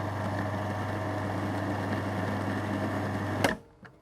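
Food processor whirring steadily as it pulses short crust pastry dough, a loud continuous motor drone with a low hum that cuts off abruptly near the end, followed by brief quiet rattles.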